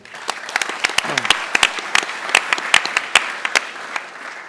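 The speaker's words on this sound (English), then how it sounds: "Let's applaud him." An audience at a startup demo day breaks into applause after a pitch, many hands clapping loosely and unevenly with crisp individual claps standing out, steady throughout at moderate loudness.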